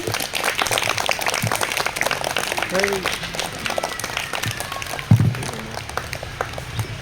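Clapping for a young student at a second-class school assembly, a steady patter of small hands throughout, with brief voices and a sharp knock near the end.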